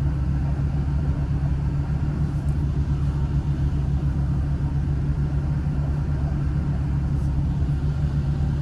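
A 1976 Lincoln Continental with a 460 cubic inch big block V8 rumbles steadily as it pulls out, a deep, continuous low engine drone heard up close with no talking.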